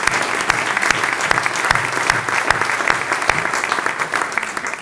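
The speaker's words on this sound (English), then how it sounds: "giving them and the school a round of applause for all the work they've done" Audience applause at a political speech by Sadiq Khan MP at a school event, steady dense clapping from a large crowd filling the room, sustained throughout.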